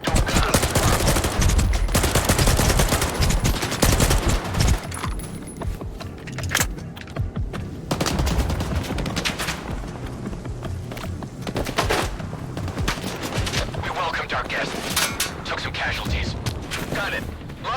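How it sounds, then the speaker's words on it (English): Bursts of gunfire in the video game Stalker 2, dense rattling volleys and sharp shots mixed with clattering effects, loud and fairly continuous across the span with some brief lulls. "Where's that gunfire coming from?"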